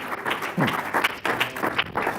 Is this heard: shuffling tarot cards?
no